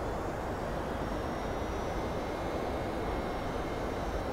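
Steady, unbroken roar of Boeing 767 jet engines in the X-Plane 11 flight simulator, a dense broadband rumble with a faint high whine, constant in level throughout with no voices.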